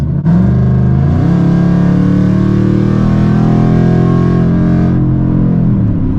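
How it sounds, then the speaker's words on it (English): A straight-piped 2013 Mustang GT roars loudly and steadily up close, a deep revving exhaust note that swells after a brief start and holds strong before easing off near the end. "I do love the loudness of the car."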